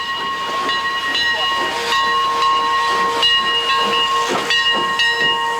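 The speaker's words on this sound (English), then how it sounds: "we'll ride on a real old-fashioned steam engine as it chugs its way through the woods." An old-fashioned steam locomotive hisses steadily as steam escapes, with sustained whistle tones sounding over the top and rhythmic puffs, fairly close and without voices.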